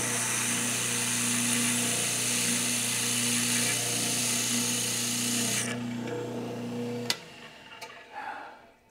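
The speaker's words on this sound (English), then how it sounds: "So I like to use the spindle sander." Spindle sander with a 5/8 spindle sanding a round hole in a wooden bow, a loud steady motorized whine with a tonal hum that stops abruptly, followed by a few clicks and handling sounds.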